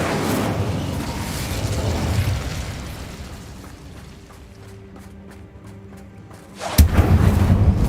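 A fire spell cast in Hogwarts Legacy: roaring whooshes and booms, loud at first, fading to a quieter rumble before a sudden sharp burst of fiery blasts.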